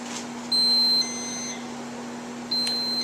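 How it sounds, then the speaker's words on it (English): Two steady electronic alarm beeps from a feeding pump, one long tone then another after a pause, over a constant low hum; no voices. "machine beeps about every 2 minutes that it's on"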